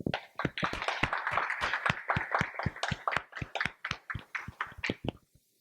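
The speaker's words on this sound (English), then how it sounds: "please join me once again in applauding all of our new Honor Society members" A small audience at a National Junior Honor Society induction ceremony applauds its new members with distinct, fairly sparse claps that keep a loose rhythm, then thin out and stop.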